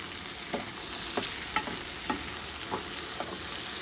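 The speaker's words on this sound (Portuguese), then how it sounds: "Vou botar a cebola." Onion frying in a pan, a steady sizzle with a few sharp scrapes of stirring scattered through it, close and moderately loud with no one talking.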